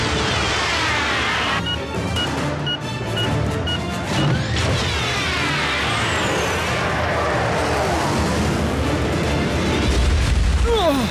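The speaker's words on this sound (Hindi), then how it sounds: "क्यों, कैसा लगा ये धमाका?" A loud explosion in the Transformers Prime cartoon (Hindi dub): dense, crashing booms and rumbling debris that fill the whole stretch, with layered impacts and sustained roar throughout.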